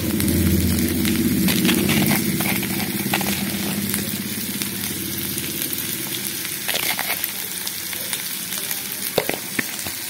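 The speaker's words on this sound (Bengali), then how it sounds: "এবার পেঁয়াজটাকে মোটামুটি ভালো করে ভেজে নেবো। যতক্ষণ অবধি ক্যাপসিকাম পেঁয়াজগুলো মজে না যায় ততক্ষণ অবধি আমি ভেজে নেবো।" Onions and capsicum fry in a pan for chili chicken, a loud, continuous close-up sizzle with crackling spatters. A faint stove hum runs underneath throughout, and no one talks.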